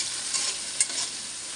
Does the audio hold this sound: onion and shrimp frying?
yes